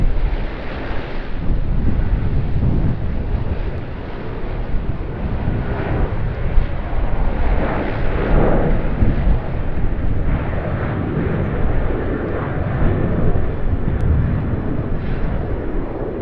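Jetstar A320 airliner departing from runway 25 at Sydney Airport heard as a steady, loud, broad roar mixed with heavy wind noise on the microphone, continuous throughout without talk.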